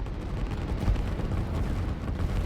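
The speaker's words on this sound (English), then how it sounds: "The artillery is still trying to pummel in through this section" Artillery fire in the strategy game Line War, a dense, continuous rumble of booms and blasts without a break.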